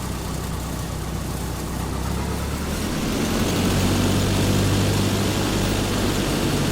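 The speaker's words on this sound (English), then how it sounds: "I'm just going to run it up a little bit just to clear out the engine." An A2A Cessna piston engine runs up in the FSX flight simulator, a steady droning rumble that grows louder and deeper as power increases, with no talk.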